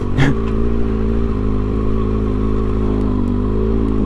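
A super sport motorcycle rides along a dirt road, its engine a close, loud, steady drone with a brief rattle at the start and no clear revving.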